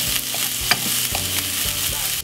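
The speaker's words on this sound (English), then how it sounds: "I just brown off my onion inside of the pot" Onion browning in a pot for spaghetti bolognese, a loud continuous close sizzle with occasional scrapes and knocks of a spoon stirring, cutting off abruptly at the end.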